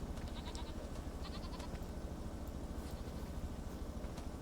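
Goats bleat in a barn in the video game Farming Simulator 25, faint bleats scattered over a steady low engine-like drone, with no talking.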